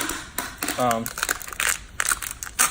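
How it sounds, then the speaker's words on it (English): Strip of tape pulled and wrapped around the foot of a chair being strapped, giving a few short crinkling, crackling bursts and one brief ripping pull, close and fairly quiet with a voice speaking alongside. "grab some tape and then just tape it around"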